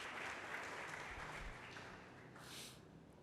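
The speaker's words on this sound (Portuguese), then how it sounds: "Dá um aplauso ao Senhor Jesus." A church congregation applauds in praise of Jesus, a steady wash of clapping from many hands that holds through the moment without a break.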